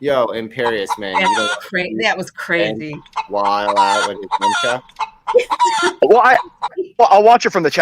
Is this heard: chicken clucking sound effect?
yes